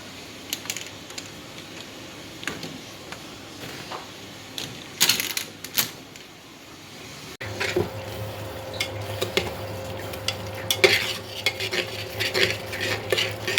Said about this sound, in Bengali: মুরগির মাংসের জন্য মশলা কষানো হচ্ছে।